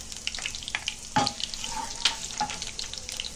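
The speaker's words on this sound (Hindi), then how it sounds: "ये देखो अभी मेथी दाना और राई डालेंगे।" Fenugreek seeds and mustard seeds hit hot oil with frying garlic while a Kokani fish thali is prepared. A steady close sizzle hisses throughout, broken by a few light stirring scrapes.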